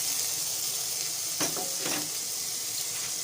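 Green chilli and grated ginger frying in about two tablespoons of oil make a steady, gentle sizzle, broken by a couple of brief stirring or utensil clatters near the middle.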